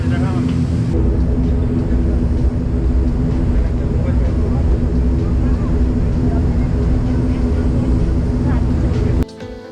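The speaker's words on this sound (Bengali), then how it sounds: "এইমাত্র বিমানের পাখা ঘোরা শুরু করেছে এবং আমরা মূল রানওয়ের দিকে আগাচ্ছি" NOVOAIR airliner propellers spinning up as the plane taxis toward the runway, a loud steady cabin drone with a strong low hum that cuts off abruptly near the end.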